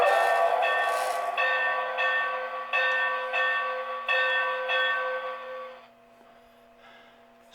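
A Lionel Railsound boxcar toy train rings its bell in a steady run of evenly spaced, bright, sustained clangs for about six seconds, with a faint steady hum underneath, then the ringing stops and only the low hum stays.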